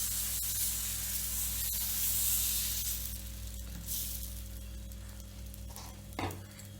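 Wheat flour and jaggery dosa batter poured onto a hot griddle, giving a steady broad sizzle that slowly fades, with a few sharp clicks and a low steady hum beneath.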